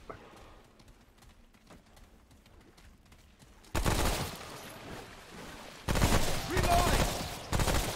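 Gunfire from a hunting pistol and other weapons in the video game Remnant: From the Ashes, with loud bursts of shots breaking out after a quieter stretch of faint scattered pops.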